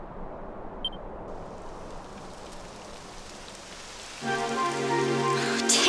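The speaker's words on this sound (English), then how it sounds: "It would have to go and start raining, wouldn't it?" Steady rain hisses in the Dragon Quest XI video game, a continuous wash of falling drops, before game music rises in under it.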